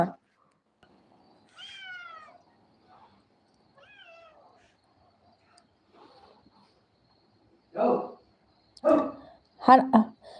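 Cats meow in a quiet indoor room, several thin rising-and-falling cries spaced apart, followed by louder, harsher calls near the end, with a person's voice also heard.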